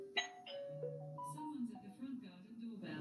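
A two-tone electronic doorbell chime rings once near the start, followed by someone speaking quietly over a soft background.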